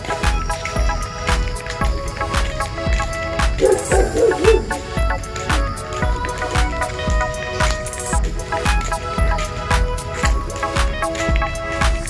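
Dogs barking during a walk, a steady run of repeated barks and yips, moderately near, with no talking.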